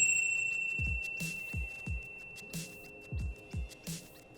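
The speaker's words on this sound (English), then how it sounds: "Now, I'm going to take this bell" Handheld bell struck repeatedly, a sustained ringing tone resonating underneath a series of short, irregular knocks and thumps, fairly quiet and close.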